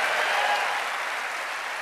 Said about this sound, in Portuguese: Quem crê, dê um aplauso ao Senhor